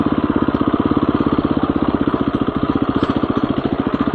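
A motorcycle engine lugs at very low revs in second gear on a rocky ride toward a hot spring, giving a loud, steady, rapid thumping pulse that stays close throughout with no talk.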